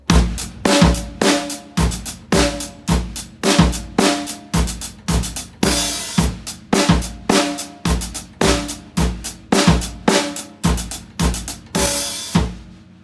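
A drum kit plays a groove alternating between 5/4 and 6/4 measures, with sharp regular hits and quick sixteenth-note embellishments. It sounds close and punchy, with an even rhythmic pulse and no talking.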